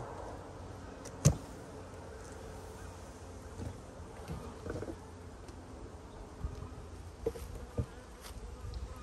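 Honey bees hum steadily around an open hive, a faint continuous drone with occasional louder passes as individual bees fly close by.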